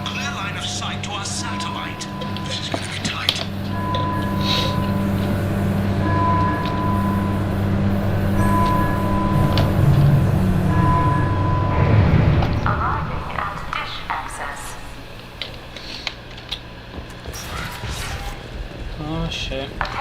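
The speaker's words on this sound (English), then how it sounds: "Oh, a tram ride." A tram ride in the video game Mass Effect: a steady rolling rail rumble with a faint tonal hum carries for several seconds, then eases into quieter ambience with sporadic clicks, under occasional talk.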